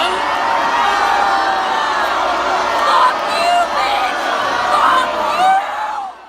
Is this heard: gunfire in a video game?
no